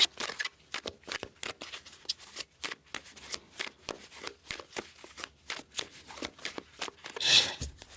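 An oracle card deck being shuffled and cut, giving a rapid run of crisp riffling flutters and soft slaps repeating steadily, close and moderately quiet, with a brighter burst near the end.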